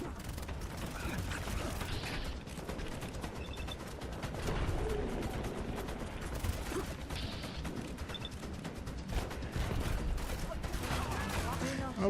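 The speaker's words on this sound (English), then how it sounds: "They're shooting through the ceiling." Gunfire rips through a ceiling in the game Fallout London, rapid rattling bursts and mechanical clatter repeating over twelve seconds, fairly close and continuous beneath a busy mix of game effects.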